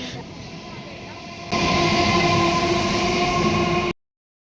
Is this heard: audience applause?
no